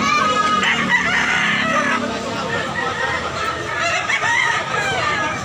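Chickens cluck and a rooster crows amid a bustling chicken sale, with background crowd chatter and continuous overlapping talk throughout.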